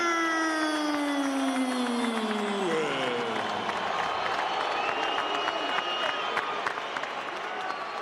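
A big crowd cheers and applauds at the Staples Center as heavyweight champion Lennox Lewis is introduced before his fight with Vitali Klitschko, a dense, sustained roar of clapping under a ring announcer's long trailing call that fades into the noise.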